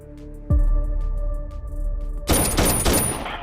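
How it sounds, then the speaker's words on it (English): A sudden loud burst of gunfire followed by a rapid, crackling volley of shots, fairly close and echoing. "I'm hearing all kinds of gunshots down the street from my house."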